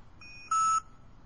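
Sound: Datalogic PowerScan PM8500 barcode scanner beep

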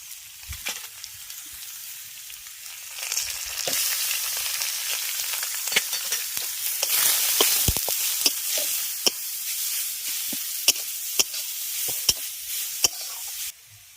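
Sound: frying and stirring ginger, green chili, grated carrot and beet

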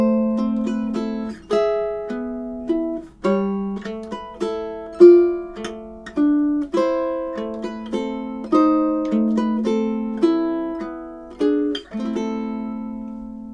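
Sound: ukulele playing classical piece "A Little Flower"

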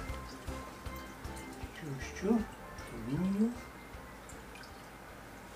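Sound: pouring liquid into a container

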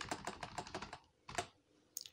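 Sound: typing a password on a computer keyboard

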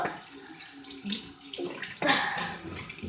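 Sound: water running while washing face

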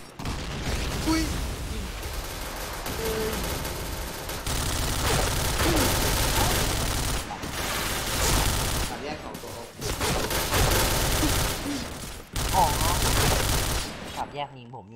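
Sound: gunfire in Point Blank video game

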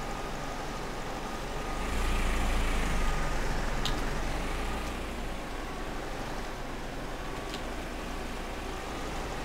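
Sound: Renault tractor wheels spinning in clay, Farming Simulator 15 video game

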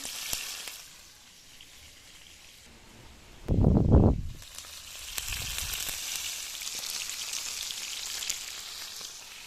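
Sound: sankara fish frying in a pan

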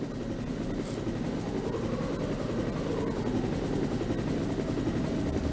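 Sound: helicopter arriving in Resident Evil video game

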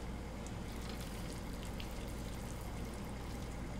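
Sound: pasta water draining through a pasta strainer

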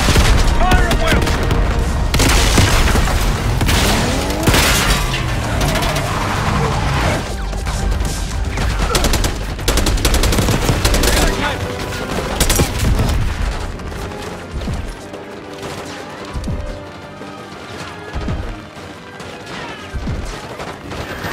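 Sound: gunfire in Call of Duty Black Ops 6 video game

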